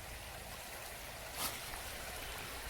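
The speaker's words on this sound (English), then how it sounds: "Here is a nice quiet creek" A quiet creek flows over rocks in a soft, steady wash of water, with one brief brighter splash partway through.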